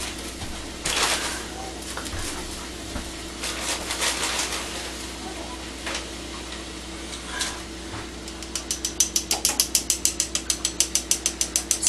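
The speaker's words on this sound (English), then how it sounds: "So even though it's 10x sifted before I mix it in with this, yes, I do sift it again." Powdered 10x confectioners' sugar being sifted again through a crank sifter before mixing, a rapid run of dry, even ratcheting clicks near the end, preceded by scattered faint kitchen clatter.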